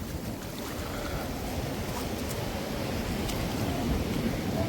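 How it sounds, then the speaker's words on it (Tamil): Sea waves wash onto the shore at Point Pedro in a steady, dense rush of surf blended with wind noise, with no distinct breaks between surges. "அலை வந்து அடிச்சு கொண்டு போய் இங்கே ஓடுது."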